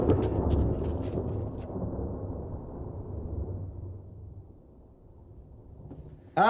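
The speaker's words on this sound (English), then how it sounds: "The storm's coming on." Thunder from an approaching storm: a loud, deep rolling rumble that slowly fades over several seconds, with a sharp new crack arriving right at the end.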